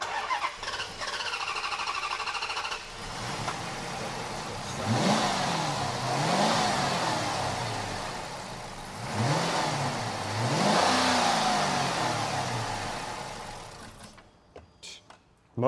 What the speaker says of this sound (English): Motor sounds good though, at least.